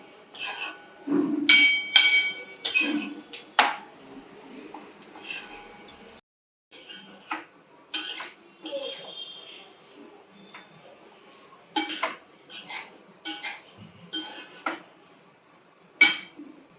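Onions browned to pink being stirred together with added cutlets in a cooking pan, with a run of irregular metal scrapes and clinks of utensil against pan, sometimes loud, sometimes sparse, with a brief pause midway.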